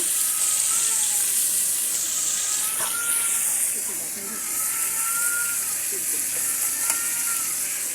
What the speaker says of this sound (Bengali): কাঁকরোলের মধ্যে আমি হালকা একটু লবণ দিয়ে এবং একটু সামান্য হলুদের গুঁড়ো দিয়ে সুন্দর করে ভেজে নিচ্ছি